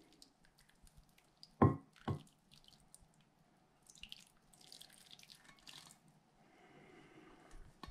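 A melted butter, sugar and water mixture is poured over an apple pie pastry, giving faint, quiet splashes and drips with two brief louder spills early on.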